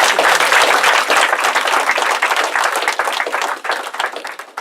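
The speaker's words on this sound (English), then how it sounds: "a round of applause for the fact that we were able to hit that" A room full of people applauds at a hospital celebration and ribbon cutting for new digital mammography equipment, with loud, dense clapping that carries on steadily for several seconds and thins slightly toward the end.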